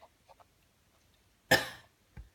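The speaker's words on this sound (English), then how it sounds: "Excuse me, this cough." A single sharp cough rings out close by, followed by a brief throaty sound, with near silence before and after.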